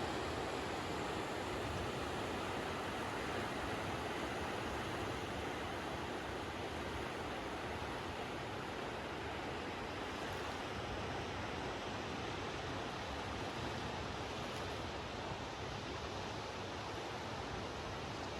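Colorado River flowing through the Grand Canyon, a steady, unbroken rush of water that stays constant and fairly loud throughout with no voices.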